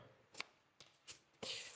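A deck of cards being shuffled before a board-game session of Formula GP: a few faint, quick papery bursts, the last one a longer riffle, close and quiet with no talk.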